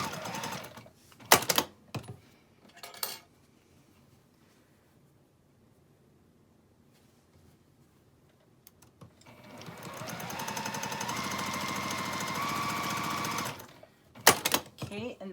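Sewing machine stitching the vertical center seams of a quilt four-patch at a quarter inch, a steady whirring run of about four seconds following scattered handling clicks and quiet pauses.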